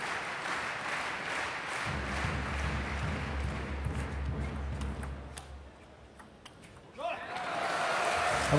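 A spectator beats a drum during a table tennis rally at a 2007 European Champions League final between Hou Yingchao and Vladimir Samsonov, steady low thumps running for several seconds under arena crowd noise.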